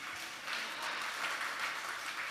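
A church congregation claps together in a sustained, fairly faint burst of applause with no talking over it.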